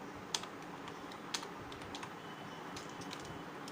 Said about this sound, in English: press the enter key